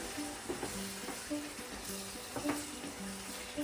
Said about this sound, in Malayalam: എന്നിട്ട് അത് ചേർത്തിട്ട് നന്നായിട്ടൊന്ന് മിക്സ് ചെയ്യാം.